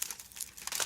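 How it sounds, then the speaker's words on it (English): Aluminium foil crumpled and molded by hand for a small sculpture, with close, continuous crinkling and crackling throughout, no voices. "So you can crumple that up and you can mold it so that it goes up and curls"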